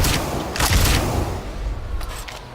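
Rocket jump explosions in Team Fortress 2, a quick pair of loud, close booming blasts that merge into a noisy rumble and then trail off.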